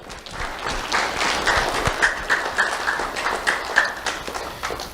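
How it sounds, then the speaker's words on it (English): A crowd applauds steadily, a dense wash of clapping at moderate distance with a few sharper claps standing out. "Let's have a round of applause for everyone behind the scenes today."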